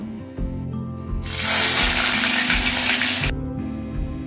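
Sliced onions hit hot oil in a pan to fry into crisp birista, letting out a loud, dense sizzling hiss that lasts about two seconds before cutting back to quieter crackle over a low background hum.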